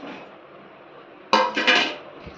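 Sugar being mixed into a cooled flour mixture in a metal pan for Gujarati magaj sweet, a sudden scraping clatter of a spoon against the pan after a quiet stretch, close and alone.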